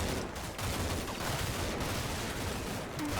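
Sustained gunfire from a complicated firefight in the video game Combat Mission Shock Force 2, dense overlapping shots and bursts forming a constant loud roar with no pauses.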